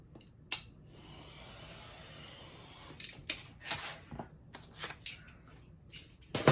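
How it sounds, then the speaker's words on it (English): A knife trims excess poster paper during poster framing, giving quiet, brief scraping and rustling strokes that grow more frequent toward the end over a faint background hiss. "And then cut off this excess here."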